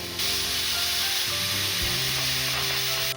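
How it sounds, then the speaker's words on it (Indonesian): Steam hisses steadily out of a pressure cooker being vented after cooking offal for gulai, a loud continuous broadband hiss with some faint background tones. "keluarkan semua gas yang ada di dalam panci prestonya. Pokoknya kita keluarin semua sampai habis dan gak mendesis."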